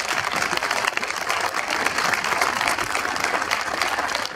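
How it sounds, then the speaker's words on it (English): A crowd applauds continuously at the Lowcountry Music Hall of Fame event at Hanahan Amphitheater, dense clapping at a steady, loud level. "Give them a big round of applause, please."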